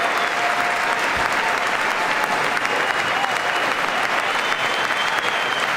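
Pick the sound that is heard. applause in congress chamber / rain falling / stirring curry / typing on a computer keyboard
applause in congress chamber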